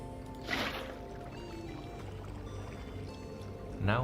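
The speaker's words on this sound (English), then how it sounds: "Now we have a tiny waterfall." A tiny waterfall in Minecraft, a soft continuous splashing pour of water with brief louder bursts, faint and steady under light background game ambience.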